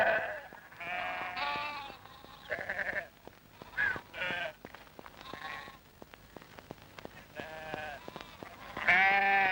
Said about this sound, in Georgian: აბა ახლა დავარგნილ ცხვარს მივეშველოთ